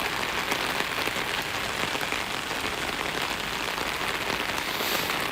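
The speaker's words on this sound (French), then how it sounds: "C'est une fausse pluie dans un studio" Artificial rain pours in a studio, a dense, steady hiss of water striking surfaces that holds an even loudness throughout, with no voices.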